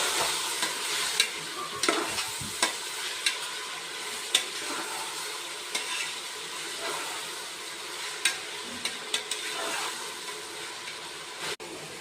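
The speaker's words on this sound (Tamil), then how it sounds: "தக்காளி இந்த வெங்காயத்தோடு சேர்த்து இதையும் கொஞ்சம் நல்லா வதக்கி" Tomatoes and onions sizzle steadily in a hot pan, with periodic scraping and stirring clicks from a utensil, close up and with no talking.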